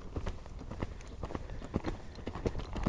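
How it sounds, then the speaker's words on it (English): A horse extends into a hand gallop during campdrafting speed-control work. The hooves strike in a quick, uneven rhythm of soft thuds, faint and somewhat distant against outdoor background noise. "I'll extend my horse out"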